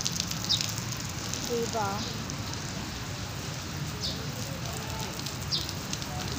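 Rain falls outside with a steady, even hiss and patter heard from indoors, while a few brief voices and faint chirps cut through now and then.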